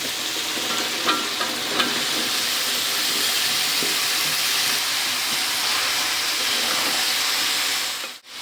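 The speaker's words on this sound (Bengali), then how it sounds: "মশলা কষানো হয়ে গেছে, এখন দিয়ে দিব আমার সকল সবজি" Vegetables dropped into hot fried spice paste sizzle loudly and steadily, a dense close frying hiss with occasional stirring clinks, continuous for several seconds before cutting off abruptly at the end.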